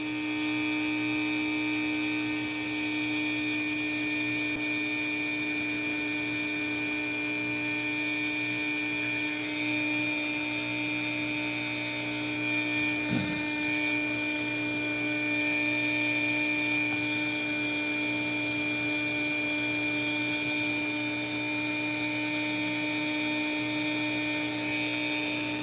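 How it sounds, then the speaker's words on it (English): Electric motor running steadily with a strong tonal whine and layered harmonics, its speed creeping upward as the pitch rises slightly; close and continuous, with no talking. "Notice the RPMs start to pick up speed."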